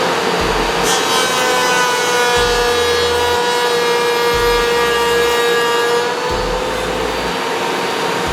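A router cutting a rabbet along the edge of a knotty pine board for a tongue and groove ceiling: a loud, steady high-pitched whine with grinding wood noise, running continuously and close up throughout.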